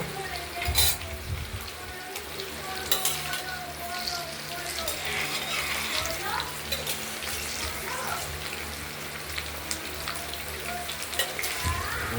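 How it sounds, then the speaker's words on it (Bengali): Cut paneer pieces fry in oil in a kadai with a steady, crackling sizzle and scattered pops, heard up close throughout. "এগুলোকে কড়াইয়ের তেলে হালকা বাদামি করে ভেজে নেব"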